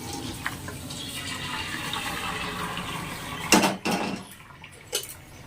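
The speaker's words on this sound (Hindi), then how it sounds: "देखिए इसकी जो गर्म पानी थी गिर गई है।" Hot water from boiled chow mein noodles pours through a kitchen strainer in a steady splashing rush, then ends in a few sharp splashes and drips, with no talking.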